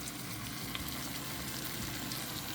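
Chicken cutlets brown in butter over medium heat in a pan, giving a continuous, even frying hiss with light crackle, close and alone.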